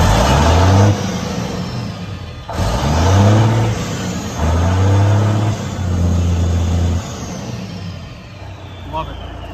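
A 2000 Kenworth W900L truck's diesel engine revved several times with the engine brake off, each rev a loud near roar rising and falling in pitch, then a long settle back to idle.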